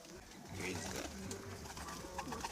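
Pigeons coo softly in a backyard loft, faint and distant, while someone talks nearby and low background noise persists.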